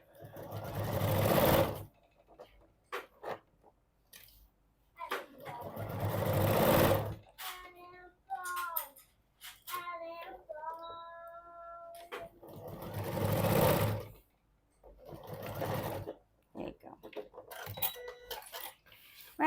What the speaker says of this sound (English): Stitch that down.